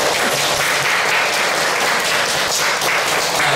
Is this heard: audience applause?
yes